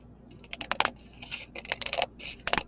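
Scissors snip through craft material for a small DIY chocolate box decoration in a series of crisp, uneven cuts and scratchy bursts, close and fairly quiet, with no talking.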